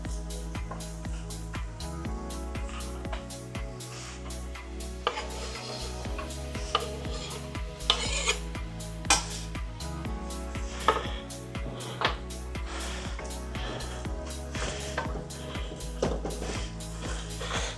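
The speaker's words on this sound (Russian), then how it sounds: "Теперь на этом этапе я добавляю сюда лук." Chopped onion going into a frying pan and stirred during cooking of baked potatoes, a busy stream of scraping and tapping utensil knocks against the pan over a low background sizzle, close and fairly steady.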